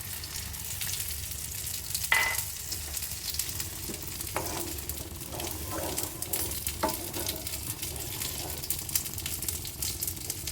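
Sizzling Bele fish curry masala in a pan gets water added, a steady frying hiss with stirring scrapes and a few sharper bursts of spitting, near and continuous without voices.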